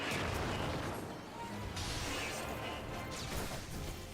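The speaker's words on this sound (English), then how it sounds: "Oh, that's a lot of explosions." Explosions in a video game, a dense continuous roar of overlapping blasts, crashes and debris from start to end, loud and with no pauses.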